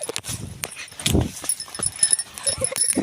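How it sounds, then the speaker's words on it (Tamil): A dog barks repeatedly at a farm garden, sharp, uneven barks close by, mixed with faint background voices and rustling. "நாய் குலைக்குது."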